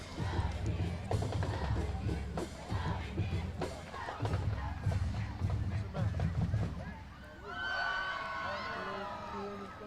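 A steady roar of crowd noise and cheering from a varsity high school football game between Jacksonville and Texas High, with cheerleaders rooting on the sidelines; a sustained tonal band-like sound rises over the din near the end.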